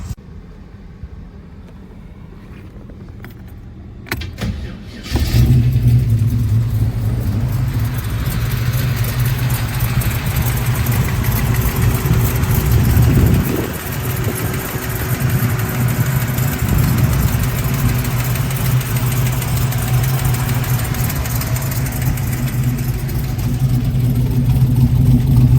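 1932 Ford Highboy with a tri-power setup: a few faint clicks and a cranking starter, then the engine catches with a loud burst and settles into a deep, rumbling idle, with a brief rev in the middle.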